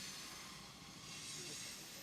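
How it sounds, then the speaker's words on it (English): A giant freight train rolls past on a track right next to a house, a broad, loud, continuous rumbling hiss with faint wheel squeal and no pauses. "sorry guys, the train is coming by."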